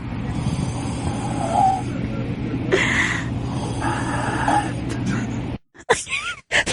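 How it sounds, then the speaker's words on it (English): A man snoring in a playback clip, a rough, steady rasping drone carrying through most of the stretch under background noise, then cutting out into broken, quieter sounds near the end. "Snoring, man."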